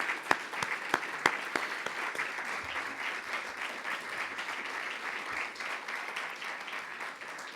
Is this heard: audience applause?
yes